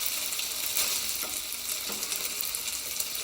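Gluten-free ricotta gnocchi sizzling in a hot pan, a steady bright crackle of frying with faint stirring scrapes, close up and alone.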